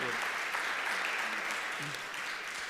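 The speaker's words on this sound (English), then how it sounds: "A round of applause and our appreciation to our panelists" Audience applause for the panelists at a corporate panel discussion on collective action against financial crimes, a steady, dense wash of many hands clapping that holds evenly across the whole stretch with no voices breaking through.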